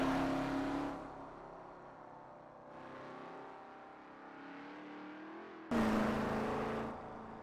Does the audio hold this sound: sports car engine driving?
yes